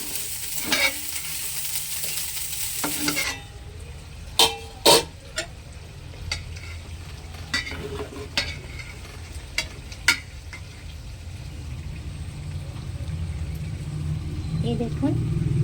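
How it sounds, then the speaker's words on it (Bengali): A spoon stirs rice, lentils and salt together in a pot while making vegetarian cauliflower khichuri. Scattered scraping knocks sound over a soft, continuous sizzle and low background hum. "নুনটা দেওয়ার পর চালটা ডালটা এভাবে আবার মিশিয়ে নেবেন"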